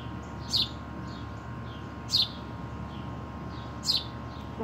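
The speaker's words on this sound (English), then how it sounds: "I do believe over there in that tree," A wild bird chirps from a nearby tree in three short, evenly spaced calls over a steady outdoor background hum, moderately distant and fairly clear.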